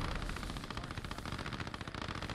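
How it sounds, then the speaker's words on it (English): Dense, continuous machine-gun fire in the WWII game Post Scriptum, fast rattling bursts layered over a constant rumble of distant battle, with no pause through the clip. "They're firing at infantry anyways."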